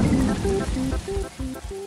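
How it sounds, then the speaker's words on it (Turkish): Cartoon rain pours with rumbling thunder, a steady close patter mixed with low booms, while short tonal beeps repeat over the storm. "Bu gidişle Pocoyo ve arkadaşları yağmurdan sırılsıklam olacak."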